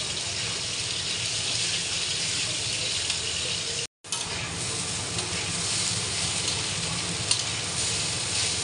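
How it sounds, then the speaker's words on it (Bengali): Washed Gobindobhog rice and dal being fried with spices in a wok, a loud continuous sizzle with stirring scrapes and a brief cut partway. "গোবিন্দভোগ চাল, ডালটা ধুয়ে কড়াই দিয়ে দেবো। মশলার সাথে একটু কষিয়ে নেব।"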